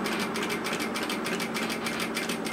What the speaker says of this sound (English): And then just stitch around the edge.